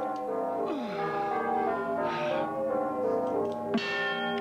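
A bell rings with bright, sustained tonal strikes that overlap and decay across several seconds, moderately loud and ringing on its own with no talking.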